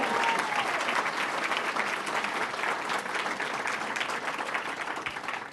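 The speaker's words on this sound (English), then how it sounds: "Let's give him another round of applause, Mayor Clyde Rabideau." An audience at a regional economic development council party applauds in a steady wash of clapping that lasts the whole stretch at moderate volume.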